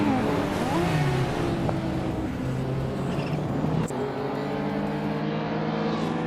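Race cars launching off the start line in a racing video game, a dense roar of several engines revving and rising in pitch together, loud and continuous, with no voices.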